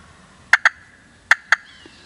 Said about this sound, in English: It's that big strutter that's gobbling.